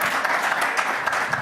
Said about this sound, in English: Good round of applause for Dr. Maputla.